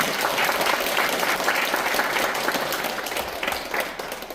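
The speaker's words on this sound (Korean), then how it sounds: "자, 박수 한번 칩시다." Audience at a senior-life forum on coffee breaks into sustained applause, a dense steady wash of many hands clapping at once that fades slightly toward the end.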